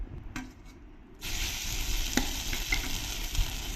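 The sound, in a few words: grated mango frying in ghee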